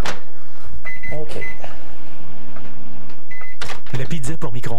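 A microwave oven runs while heating a McCain microwave pizza, with beeps and door clunks over a hum, and people speak French over it.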